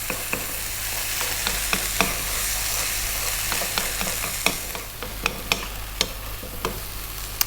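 Chicken, lentils and potatoes sizzling in a pan over lively heat, a constant close fry with sharp scrapes and taps of a utensil stirring every half second or so.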